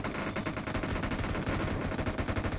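Rapid automatic gunshots in the mobile battle royale BGMI, a fast steady rattle of close, moderately loud bursts with no talk over them.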